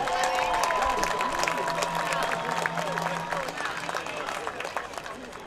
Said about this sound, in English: let's have a round of applause for the senior members of the Viking Marching Band